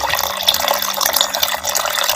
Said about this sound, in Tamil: ஊறுறதுக்கு ஒரு முக்கால் தரத்துக்கு தண்ணி ஊற்றிக்கிறான்